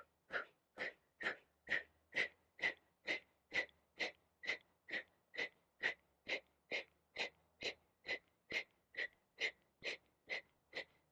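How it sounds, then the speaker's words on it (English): Rhythmic forceful exhales from a yoga breathing exercise, air pressed out by pulling in the belly with a straight spine; about two dozen sharp, evenly spaced breath bursts, close and clear with no talking. "He's just simply bringing in his belly enough to press air out, holding a straight spine."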